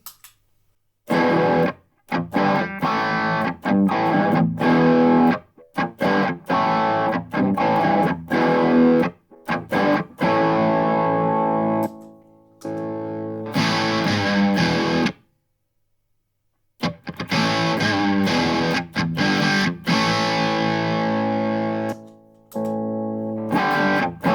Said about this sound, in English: Classic Distortion.